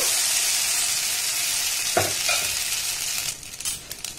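Chitoi pitha rice batter ladled into a hot oiled wok on a gas stove, giving a steady loud hiss with a sharp flare of sizzle midway and a few light clinks toward the end.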